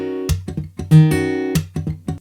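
Acoustic guitar strums out a syncopated rhythm, a quick pattern of sharp muted ghost-note chops mixed with a few ringing chords, played solo and up close.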